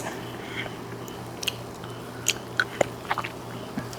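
Bites and chewing on Haitian fish dipped in sauce with cucumber, a few sharp crunchy bites scattered over a quiet, steady background, close to the microphone.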